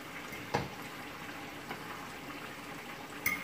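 A burger patty cooking in a hot pan gives off a steady, even hiss and bubbling, close and moderately loud, broken by a few sharp clicks and taps.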